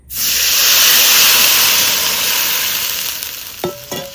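A little water poured into a hot karai after frying hilsa, bursting into a loud hissing sizzle that slowly dies down, followed by two brief clanks near the end.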